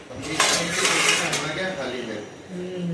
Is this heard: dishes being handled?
yes